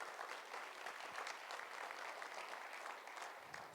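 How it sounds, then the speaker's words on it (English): Diners at a gala dinner applaud together, producing soft, steady, distant-sounding clapping that holds evenly for a few seconds without any voices. "Let's give some applause to the wonderful meal for everyone tonight."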